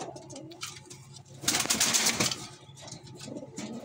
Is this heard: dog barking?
no